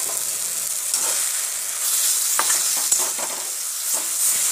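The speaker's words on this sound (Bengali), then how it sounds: "দিয়ে ভালো করে এটা নাড়াচাড়া করতে হবে।" Brinjal sizzles and fries in a pan, seasoned with turmeric, while a utensil stirs it, giving steady hissing with scattered scraping clicks throughout, close and fairly loud, no talking.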